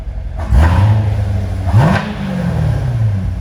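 Engine of a 2019 Chevrolet Corvette Grand Sport 3LT with automatic transmission, idling close by and blipped twice in quick revs that rise and fall, followed by a steady throaty idle.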